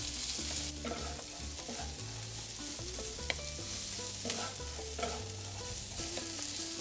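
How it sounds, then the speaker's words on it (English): Julienned onions sautéing in a pan while being stirred, a steady quiet sizzle broken by repeated scraping strokes and light utensil clicks against the pan, with a low hum in the background. "I'm gonna move these onions around until they get slightly translucent."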